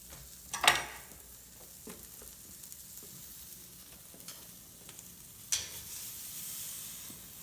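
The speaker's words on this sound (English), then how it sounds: "So that fat's burning. And it's gonna start flaming." Picanha fat burning and flaring over a charcoal grill, giving a quiet ongoing sizzle broken by two sharp hissing flare-ups, one near the start and one past the middle.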